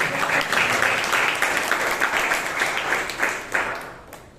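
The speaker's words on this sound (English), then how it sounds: "Please give Prakash a big round of applause." Audience applause for a speaker at a Toastmasters club meeting in Bangalore: a dense, steady wash of many hands clapping at once, loud and close, easing off near the end.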